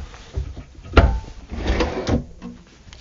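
Drawers on a cabinet in a 2022 Showhauler coach built on a Western Star 5700 slide and thump shut, a few close knocks and rolling scrapes over about three seconds, no talk.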